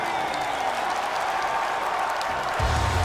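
A large crowd at a Brawl Stars esports finals applauds in a steady, dense wash of clapping and cheering that rises slightly near the end.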